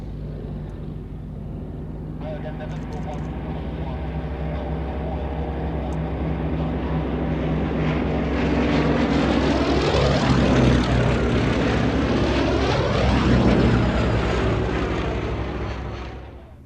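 A camouflaged Westland Lysander (Lizzie), restored to flying condition, passes at the Shuttleworth airshow with a deep, droning radial-engine roar that builds, peaks loudly overhead and fades away.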